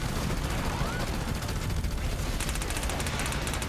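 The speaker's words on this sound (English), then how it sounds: "Deploying fire bullets!" Rapid gunfire from fire bullets in the Battleborn shooter game, a dense continuous burst of shots with a quick rattling stutter that sharpens near the end, loud throughout.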